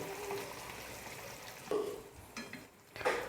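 A pan of egg gravy bubbles and sizzles steadily close by as it comes to a boil, with a few louder pops and stirring sounds breaking through.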